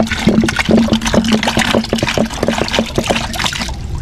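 Insecticide is stirred into about four liters of water, making a steady, close sloshing and trickling of liquid without a break, with no voices.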